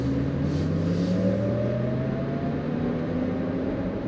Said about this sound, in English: I mean, it almost sounds like a car.